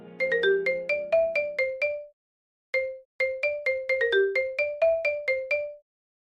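A telephone rings in the morning in a Korean audio drama, with a bright melodic ringtone repeating in two long bursts separated by a short pause, loud and alone.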